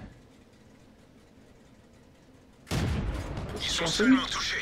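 A tank gun fires from an elevated position in World of Tanks, a sudden loud blast after quiet engine rumble, followed by ringing and rumbling effects.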